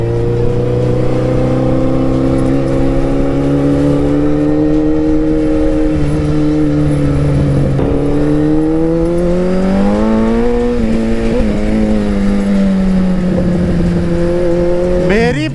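Close up, a Suzuki Hayabusa motorcycle engine drones loudly and continuously, its pitch sagging and then climbing as the bike revs and accelerates.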